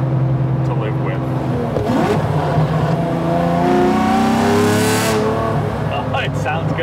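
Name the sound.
Lamborghini Diablo SV engine and exhaust revving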